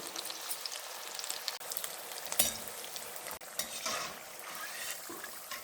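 Steady crackling sizzle of vegetable pakoda with beans deep-frying in hot oil, with a few sharper pops and bubbling bursts, continuous and close.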